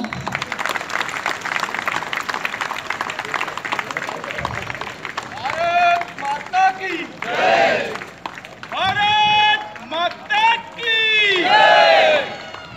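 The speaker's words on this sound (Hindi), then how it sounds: "तालियां बंद ना हो।" Crowd applause and cheering at a BJP intellectuals' conference on the Lions School ground in Dadra and Nagar Haveli, steady clapping with shouts and a voice announcing over a loudspeaker as the noise swells in loud bursts.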